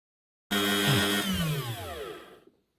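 A close, loud power tool cuts into opal for about two seconds, a steady harsh whine with a grinding edge that winds down and fades, then falls silent.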